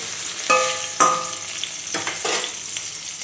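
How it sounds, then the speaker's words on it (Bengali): Eggplant slices frying in oil for begun bhaja in a home kitchen, a steady close sizzle broken by a few sharp clatters of a utensil against the pan, no voices. "এখানে আর একটু বেগুন ভাজা বসেছি"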